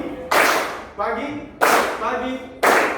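A school class claps hands together in a clapping game, three loud unison bursts roughly a second apart, with children's voices calling out between them.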